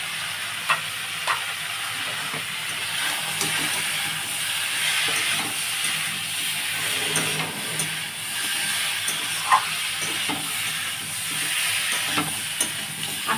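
Ground panch phoron spices sizzling steadily in hot oil for a vegetarian chapor ghonto, a continuous broadband crackle and hiss with occasional sharper pops and light stirring, close and alone with no talking.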